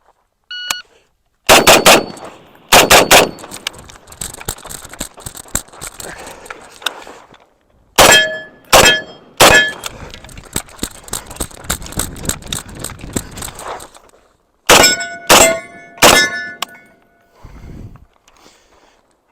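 An M1A rifle fires at steel targets in quick strings of loud, cracking shots, with bursts of three to five rounds separated by pauses and a ringing tail after each string.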